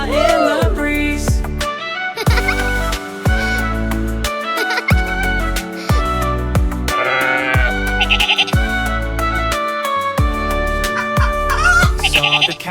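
A lamb bleats over and over in short, loud, wavering cries, with steady rhythmic tones running beneath it.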